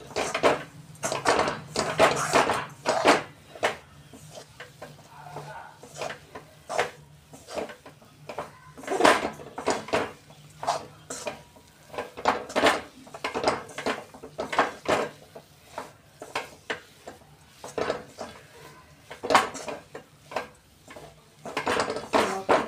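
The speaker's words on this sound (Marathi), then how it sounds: "असंच आपण आणखी थोडं पातळ होईपर्यंत याला परतवून घेऊया." A sesame mixture is stirred and sautéed in a pan, producing irregular, repeated scraping and knocking of a spatula against the pan, close and fairly loud throughout, with faint talk at times.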